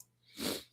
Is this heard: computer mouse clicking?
no